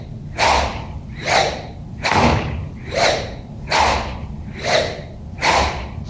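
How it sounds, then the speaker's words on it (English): Repeated whooshes from golf club practice swings through the downswing, about seven sharp rushes of air at a steady rhythm, loud and close. "when you add extra shoulder turn in the downswing, the whoosh sound is a bit different"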